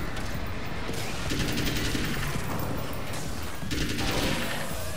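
Shadow grenades exploding in the video game Alan Wake's American Nightmare, a dense continuous barrage of crackling blasts and rattling bursts, loud and unbroken for several seconds.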